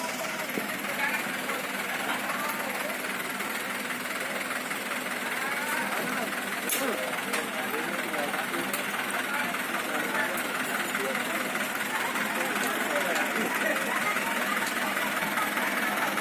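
A chainsaw engine runs steadily while workers clear a fallen saman tree that crashed onto house terraces and power lines, a continuous mechanical drone with broadband noise throughout and faint voices in the background.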